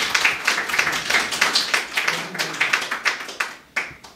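Audience applause at a formal Hindi-Urdu stage program or mushaira, many hands clapping in uneven, dense bursts that stay fairly steady, then thin out and fade toward the end.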